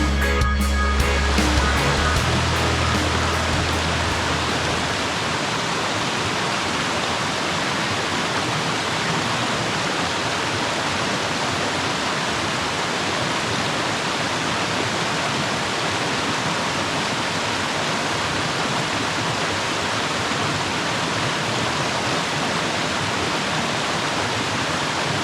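Creek water rushes loudly and continuously close by, a dense, even, hissing flow that holds steady throughout with no voices.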